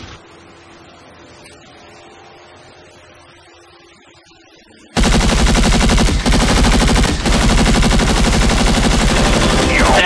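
Video game gunfire from a turret: after about five seconds of quiet hum, continuous rapid machine-gun bursts erupt and roar loud and unbroken to the end.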